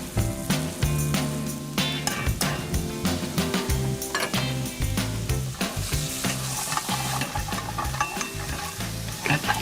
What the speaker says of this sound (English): Followed by ginger, stirring everything together.